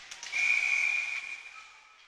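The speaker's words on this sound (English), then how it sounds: "we're going to get a whistle." A referee's whistle at an ice hockey playoff game, one sustained shrill blast of about a second that tapers off, heard alone and fairly close.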